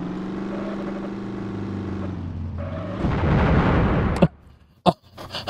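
Video game bomb blowing up with a broad roaring blast that lasts over a second, preceded by a droning engine hum and followed by a few sharp bangs and clatters.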